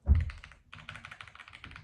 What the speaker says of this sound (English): Very awesome keyboard. I love the click.